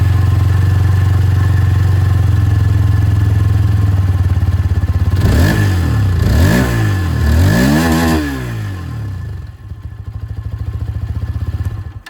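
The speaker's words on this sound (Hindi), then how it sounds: "तो ये मैंने आप लोगों को यहाँ पर एक्सट्रीम की आवाज़ जो है वो सुना दी है" A Hero Xtreme 160R 4V motorcycle idles with a loud, steady exhaust burble, then revs sharply three times in quick succession before settling back to idle, with no talk.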